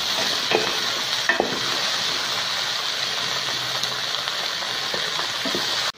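Sliced okra for sambar sautéing in hot oil, a steady close sizzle with occasional scrapes and clicks of stirring against the pan, continuous throughout without speech.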